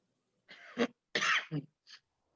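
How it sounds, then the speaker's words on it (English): A few short coughs close by, in two quick bursts followed by a smaller one, with no talking. "The cough? Yeah."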